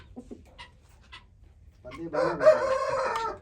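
A rooster brought in for breeding crows once, a loud drawn-out call rising after a few faint clucks and rustles near a farm pen, heard close.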